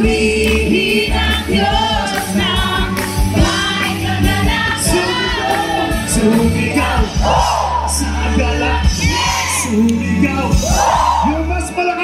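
A large crowd at a Christian youth camp in Taiwan shouts and cheers loudly and continuously, many voices whooping and yelling together at close range.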